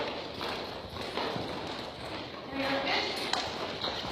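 A young colt lopes around a round pen, its hooves thudding in a soft, rolling rhythm on the ground at moderate distance, with low background noise and no clear talk.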